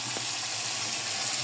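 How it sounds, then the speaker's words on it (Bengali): Chicken meat poured into spice paste already fried in oil for a light curry, a loud steady hiss of sizzling close by. "মশলা কষানো হয়ে গেছে, মাংস ঢেলে"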